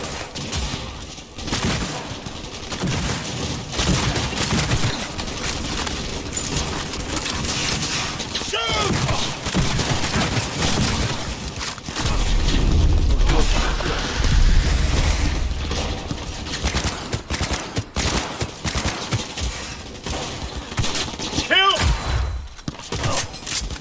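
Dense gunfire in the video game Cyberpunk 2077, continuous loud rapid shots with thuds and crashes throughout a firefight, plus a deep rumble partway through, with game voices shouting under the noise.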